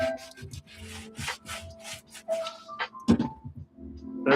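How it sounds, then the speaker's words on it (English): A vegetable brush scrubs Nike Foamposite sneakers, working into small holes in the shoe with repeated bristly rubbing strokes in quick irregular bursts, close and moderately loud, with a few soft knocks. "Vegetable brush to get in these little holes. Loosen any dirt."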